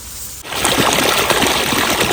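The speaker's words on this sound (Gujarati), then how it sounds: "પાણી કેટલું તાજે તાજું આવે મસ્ત પાણી આવે" Fresh well water pours and rushes loudly in a farm field of wheat, starting abruptly and then flowing steadily up close.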